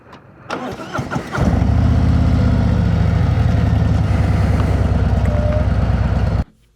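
A 2024 Harley-Davidson Road Glide rumbling along, steady loud engine drone with wind buffeting after a brief startup clatter, continuous for several seconds then cutting off abruptly.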